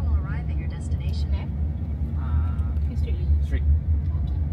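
Proton Emas 7 SUV on a test drive at the Malaysia Autoshow 2025, with a steady low road and engine rumble running throughout while people talk inside the cabin and a navigation voice chimes in.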